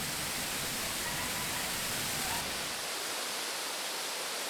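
Tropical waterfall at a swimming spot, a loud, dense, unbroken roar of falling water that softens slightly toward the end.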